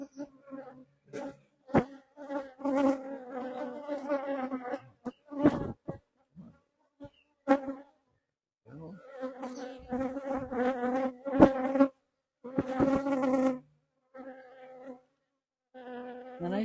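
Honeybees buzz around an open Poppleton beehive in a steady, close drone that rises and falls in bursts as individual bees pass near, with brief gaps and small knocks between.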